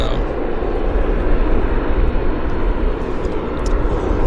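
A United Airlines jet bound for Houston at Vancouver airport gives off a steady, loud, broadband engine roar that holds without a break, with a voice talking over it.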